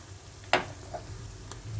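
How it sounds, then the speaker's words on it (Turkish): Minced meat filling for Antep-style white cabbage rolls being stirred in a bowl: a brief, soft, wet squish and a few faint clicks of the spoon, close and quiet. "2 çay kaşığı toz kırmızı tatlı biber ekleyip harcımızı güzelce bir karıştırıyoruz."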